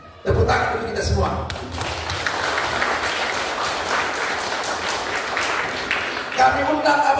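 Loud, dense applause fills a hall for a newly elected chairman at a community installation ceremony, steady after a brief start and swelling near the end, with voices mixed in.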